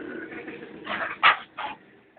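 A puppy whimpers in a few short, close, high-pitched whines, with one louder cry near the middle and quieter whimpers around it.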